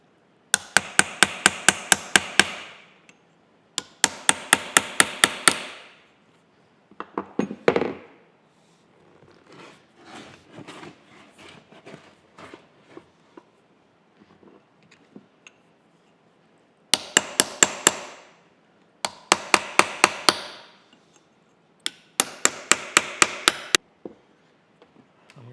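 Sharp metallic hammer blows drive a small chisel into a Skinner four-jaw chuck to split it apart, coming in rapid bursts of several strikes separated by quieter pauses with lighter tapping and handling noises.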